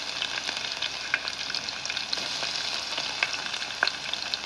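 Cumin seeds and crushed garlic cloves fry in oil with a steady, close crackling sizzle, dotted with brief sharper pops and occasional stirring, no voices.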